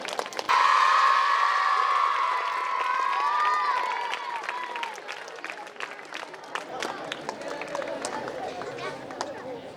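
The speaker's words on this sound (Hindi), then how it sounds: "एक बार जोरदार तालियों से बच्चों स्वागत हो जाए।" Schoolchildren at a school alumni meet give a loud burst of applause and cheering to welcome a teacher, with shouts and whoops over the claps before the noise settles into scattered clapping and chatter.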